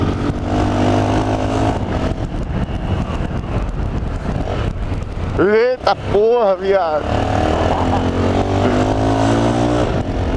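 A Honda Twister motorcycle with a straight-pipe exhaust revs and drones steadily and loudly. Someone shouts over the engine partway through.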